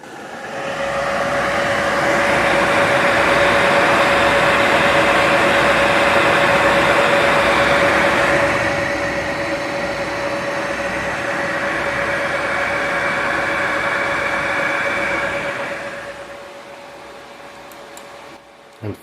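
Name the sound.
ASRock Steel Legend 9070 XT graphics card fan at full speed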